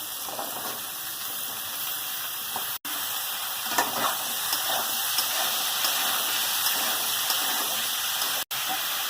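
Pumpkin pieces frying in a pan of oil, giving an even, continuous sizzle and hiss at moderate level, with faint stirring scrapes and two brief dropouts.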